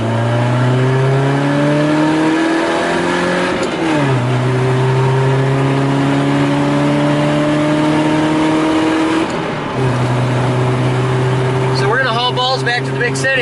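A car packed with chemistry glassware drives along with a steady engine drone that rises as it accelerates and drops twice with gear changes. A voice is heard briefly near the end.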